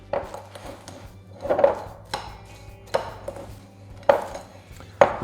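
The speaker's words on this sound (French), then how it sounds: "Enfin, j'ajoute les amandes effilées. Je mélange à la spatule." Sliced almonds being folded into a thick chocolate-cocoa batter with a spatula in a bowl, close-up scraping and knocking strokes recurring about once a second against a steady low hum, no talk.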